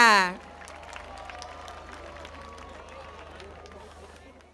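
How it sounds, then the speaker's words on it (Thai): An audience at an evening school sports gathering applauds to welcome the provincial governor of Ratchaburi, a steady dense patter of clapping that carries on evenly after a brief voice at the start. "ขอทุกท่านปรบมือต้อนรับนะคะ"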